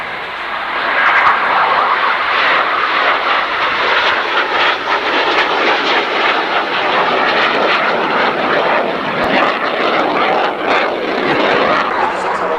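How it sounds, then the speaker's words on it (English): A swept-wing aircraft passes overhead with its undercarriage down, a loud sustained engine roar and rushing drone that holds steady throughout. "The aircraft being flown in the fully swept configuration with the undercarriage down."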